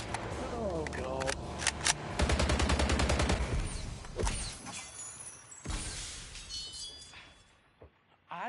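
Automatic rifle gunfire in The Grand Tour video game, a dense rapid burst of shots mixed with shattering impacts and other game effects, loud and up close.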